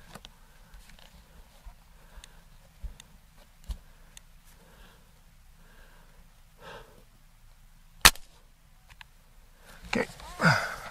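A Gamo Swarm Magnum Pro 10x Gen 3i .22 air rifle fires a single sharp, close crack amid quiet handling noises and faint breathing.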